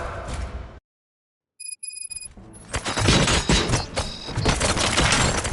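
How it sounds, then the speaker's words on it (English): Rapid gunfire erupts in the video game Robocop: Rogue City after a brief silence, dense and loud, with a few high electronic beeps just before the shooting starts. "Gunshots? What's going on?"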